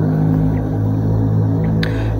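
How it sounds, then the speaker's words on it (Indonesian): Steady low rumble of traffic from a nearby main road in Bali, a continuous drone with no distinct passing vehicles and no voices. "ini di pinggir jalan besar,"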